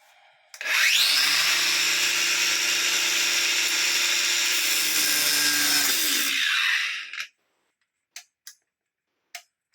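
A plumbing pipe is cut with a power tool, one loud sustained buzzing cut lasting about six seconds that winds down and stops, followed by a few faint ticks and clicks.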